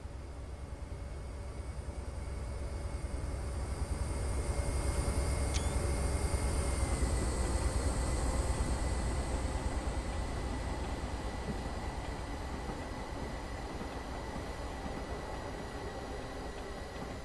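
An HST train engine in Train Simulator 2015 on the Riviera Line drones in a low, steady rumble with a constant whine above it, holding at an even, moderate level throughout with no talking.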